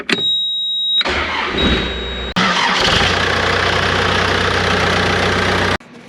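A Cat skid steer that would not start cranks with a rough starter whine, then fires up and settles into a loud, steady close-up diesel idle before cutting off.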